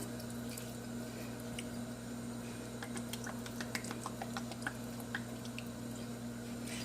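Soy sauce poured into a hot pan of citrus shrimp made with grapefruit, a quiet sizzle under a steady kitchen hum with scattered small crackles and pops.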